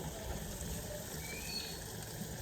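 Liquid poured over chicken on a barbecue makes a continuous gushing, hissing wash that stays even and close for the whole moment, with no talking.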